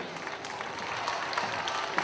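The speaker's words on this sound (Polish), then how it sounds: "Należą jej się brawa, moi drodzy." Short burst of audience applause at the Miss Świata Parowozów 2010 contest in Olsztyn, a dense patter of many clapping hands from a crowd.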